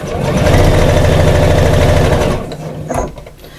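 A sewing machine stitches a bag gusset onto a curved edge in a steady, loud mechanical whir that runs for about two seconds, then slows and stops, followed by a few faint handling clicks.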